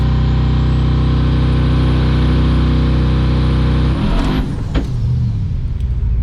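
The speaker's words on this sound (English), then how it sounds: "listen to the turbo building boost" Turbocharged race car engine building boost at the track, a loud sustained drone with a rising whistle that cuts off after about four seconds into a rougher, falling rumble.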